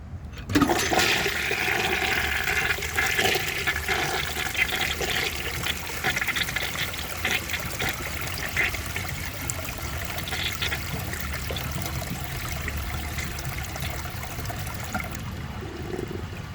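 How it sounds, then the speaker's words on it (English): A 1950s Kohler Trent low-tank siphon-jet toilet flushes with a strong, steady rush of water that carries on for over fifteen seconds before tapering to a trickle, close and alone. "So I'm guessing that it'll have a powerful, nice, and maybe even slightly longer flush than normal."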